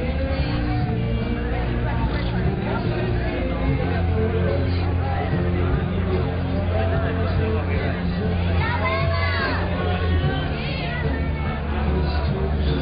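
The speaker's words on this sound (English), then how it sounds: "Looking around this huge crowd that's gathering at the bottom here." A huge crowd gathered at the base of the wall at a youth climbing world championship in Singapore keeps up a dense, steady babble of chatter, with scattered shouts rising above the constant hubbub.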